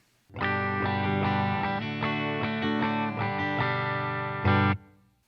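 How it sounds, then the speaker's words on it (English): An electric guitar with a clean tone, played through a Universal Audio Dream 65 amp, rings out a sustained chord, with a few changes, before it is abruptly cut off. "To establish a baseline, here's my clean tone."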